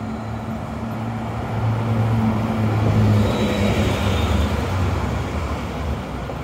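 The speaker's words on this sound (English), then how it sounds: "I smelled diesel smoke from that bus that went by" A bus passes on Barrington Street in downtown Halifax, a steady loud roadway rumble that swells in the middle and eases off, with general city traffic noise around it.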